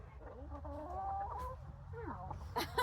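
Chickens clucking and squawking close by as laying hens are caught and moved into mobile coops on a family farm, steady fowl calls with a low rumble underneath and a brief human sound near the end.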